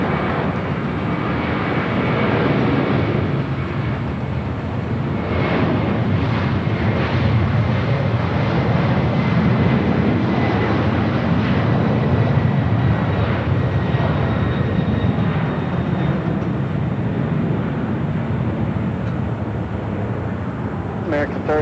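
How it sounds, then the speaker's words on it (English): An Aero Union A300 aircraft rolling down runway 25 right at Los Angeles International Airport, a continuous broad engine roar that holds steady and loud, mixed with wind noise, and faint radio voices can be heard. "we've got the Aero Union A300 now rolling down at 25 right"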